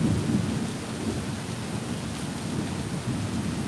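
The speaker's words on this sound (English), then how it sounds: "Oh, I say that as we get a massive strike of lightning." Thunder rumbles low and long after a lightning strike during a heavy storm at Disney, with steady rain pouring on hard surfaces all around.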